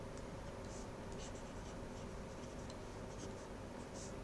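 Pen writing on paper during an accounting lecture, a steady soft scratching with faint strokes repeating across the whole stretch, close and quiet, with no talking.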